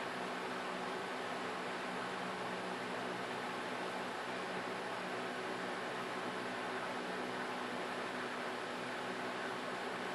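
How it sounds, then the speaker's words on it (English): An electric fan runs steadily in the background near a hydrogen-producing electrolysis cell, a constant broadband whoosh with no change in level and no speech over it. "Sound you hear in the background is my fan."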